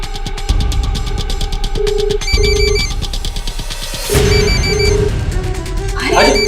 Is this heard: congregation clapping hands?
no